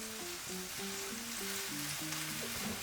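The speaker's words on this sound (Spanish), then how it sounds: "Lo vamos a sofreír hasta que sintamos el olor del cebollino" Chives sauté in a hot pan with a steady, bright sizzle. A faint tonal melody runs underneath throughout.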